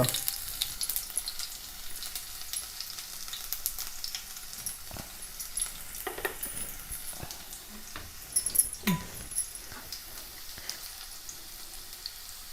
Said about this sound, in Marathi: आता आपण लसूण घालणार आहोत थोडा हिंग